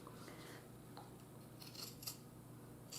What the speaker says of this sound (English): we're just trimming to get the bulk out of the seam